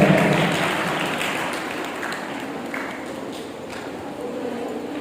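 Audience applause at a mushaira poetry gathering in a government degree college, a broad steady wash of clapping that starts strong and thins slightly over five seconds, with faint voices mixed in.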